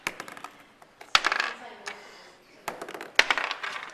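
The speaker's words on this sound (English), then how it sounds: "Roll it on the table, Spencer." Several dice are rolled onto a tabletop during a tabletop wargame, giving scattered sharp clatters and skittering clicks in bursts. People talk faintly between the rolls.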